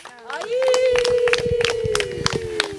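A church congregation claps in rhythmic, repeated beats while a voice calls out loudly over the applause.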